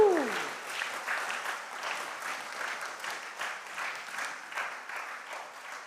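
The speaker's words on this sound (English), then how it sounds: "Please, I beg you, clap for them again." Audience at a school competition between community schools claps steadily and loudly throughout, a sustained wash of applause with no break.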